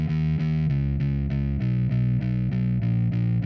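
Bass pattern run through a Guitar Rig 5 preset in a beat, a steady distorted low line with evenly spaced repeating notes, loud and alone with no talk.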